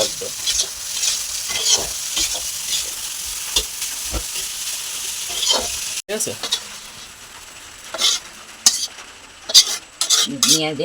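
Rice is stir-fried in a pan with onion, green chili, turmeric and salt: a constant close sizzle broken by bursts of a utensil scraping and clattering against the metal, with a brief voice in the background.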